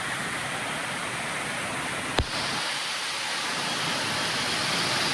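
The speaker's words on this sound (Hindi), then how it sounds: "यहाँ देखो ये झरना देखो कैसे झरना चल रहा है, आवाज़ सुन सकते हो" Heavy, steady broadband roar of a waterfall pouring during torrential monsoon rain in Rishikesh, continuous and loud throughout, with one brief sharp click near the middle.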